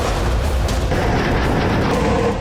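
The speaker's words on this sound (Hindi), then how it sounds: "रूस के महाविस्फोट से यूक्रेनी शहर आग की लपटों में घिर गए।" Heavy, continuous rumbling blasts from Russian missile strikes on Ukrainian cities, loud and booming with a thick low-end roar that never lets up, no voices present.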